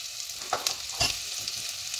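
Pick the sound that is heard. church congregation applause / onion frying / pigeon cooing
onion frying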